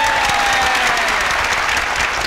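Studio audience applause at a Thai televised school science quiz show, a dense steady clapping that fills the whole moment at full loudness, with a faint tonal whistle running underneath.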